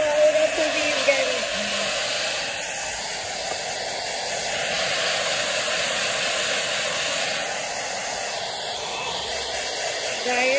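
A blow dryer runs steadily close by, drying the thick-haired tail of a buck goat in a barn, a constant whooshing hiss with faint voice in the background.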